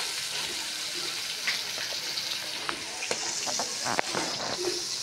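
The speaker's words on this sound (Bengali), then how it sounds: "তো এইখানেও অনেক মাছ আছে ভাজার জন্য, এটা ভাজতেছি" Fish fries in a pan with a steady close sizzle, broken by scattered sharp pops and crackles of hot oil throughout.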